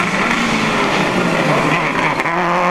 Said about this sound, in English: The Business and Scientific Services Subaru rounds the first hairpin very quickly